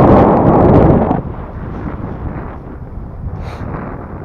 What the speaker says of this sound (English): Good little breeze today.